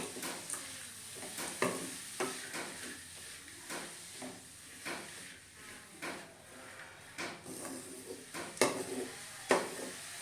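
Chaya mansa (Mexican spinach) greens cooking uncovered in a pan, with a steady close sizzle and hiss broken by repeated stirring scrapes and clinks throughout.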